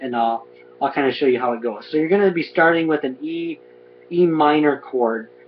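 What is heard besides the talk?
No everyday noises stand out.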